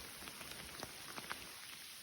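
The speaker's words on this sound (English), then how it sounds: "This is a torrential downpour." Steady torrential rain patters on a surface in Washington State, with scattered louder drops striking nearby over a constant wet hiss.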